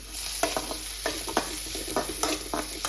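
Onions frying in a pan until golden for a pasta dish, a continuous hiss and sizzle with repeated scraping strokes of a stirring utensil.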